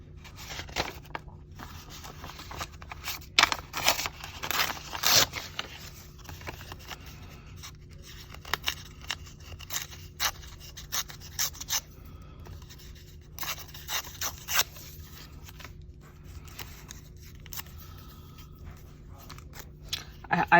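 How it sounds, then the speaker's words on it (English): Paper being handled, crinkled and torn while working in an art journal, with irregular close crackles and rips repeating over a low steady background hum. "I'm just kind of listening to the paper."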